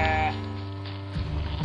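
A sheep lets out a loud, wavering bleat up close, followed by a shorter second call from the flock.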